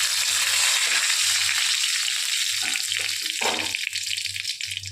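Dried chilli, cumin, cinnamon and bay leaf fry hard in hot oil as a loud, dense sizzle, with a few soft stirring scrapes and no voices.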